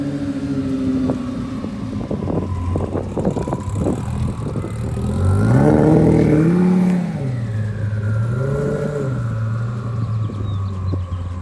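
A Lamborghini Gallardo Superleggera with a UGR Stage 3 setup revs loudly as it drives past nearby, its engine note rising and swelling in the middle and then settling into a wavering, rumbling idle-like drone.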